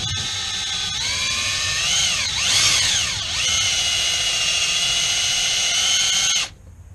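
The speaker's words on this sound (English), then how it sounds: "Drill into the small divot that we made." A power drill whines steadily with high harmonic pitch, its tone dipping and rising as it bites into a broken metal bolt, then cuts off abruptly near the end.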